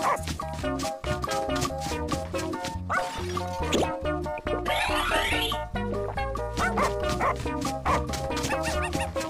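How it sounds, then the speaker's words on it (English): A cartoon dog barks in short yips, set within busy, continuous background music and sound effects. "Dog."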